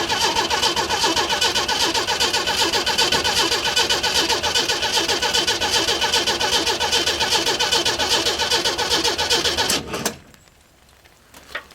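Chevy V8 engine cranking over on the starter with no distributor or coil connected, a fast even churning rhythm going on and on for about ten seconds before stopping abruptly into near quiet.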